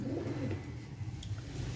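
Soft pigeon coos rumble low and steady from a keeper's loft of Punjabi pigeons, fairly faint and continuous, with a couple of tiny higher clicks and no voices.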